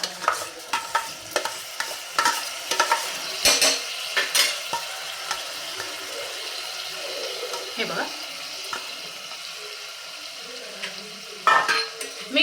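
Washed rice being stirred into a frying pan for pavta bhaat, a soft steady sizzle under scraping spoon strokes and occasional clinks against the pan, close up, without speech.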